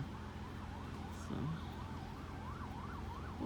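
Emergency sirens heard from a residential driveway, a wailing tone rising and falling repeatedly at moderate distance, steady and continuous.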